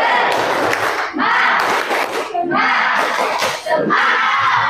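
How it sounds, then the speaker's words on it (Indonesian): A classroom student group performs a spirit clap and chant in short, loud, rhythmic bursts of shouting and clapping, with brief gaps between phrases. "Silakan kelompok 4 tepuk semangat."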